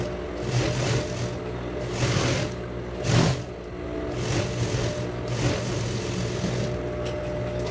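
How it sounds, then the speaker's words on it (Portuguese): A sewing machine stitches a seam on children's shorts, running steadily and close up with a continuous mechanical hum and several brief surges in speed, with no talking. "Então, a gente vai passar a nossa costura bem aqui."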